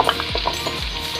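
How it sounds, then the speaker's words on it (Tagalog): Potatoes fry lightly in a pan with a steady, close sizzle. A spatula stirs through them several times, making soft swishing scrapes. No voices. "Prituhin po natin ito ng bahagya lang."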